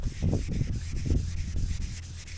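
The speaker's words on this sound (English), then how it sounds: "I usually get a block and wrap that block with sandpaper, and to start this off, I'll just do 400 grit." A sandpaper-wrapped block with 400-grit paper is pushed by hand across primer on a Harley-Davidson Touring saddlebag lid, giving close, steady rasping strokes in a repeating back-and-forth rhythm.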